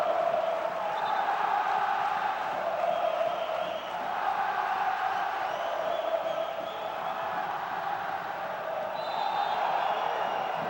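Vasco fans fill a stadium during a 2012 Brasileiro match against Palmeiras with a steady, distant crowd roar and chanting that swells and ebbs as a continuous bed of noise.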